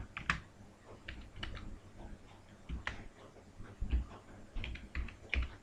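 Keys clack on a computer keyboard as text is entered into Google Forms, an uneven burst of close, soft clicks with short pauses and no speech.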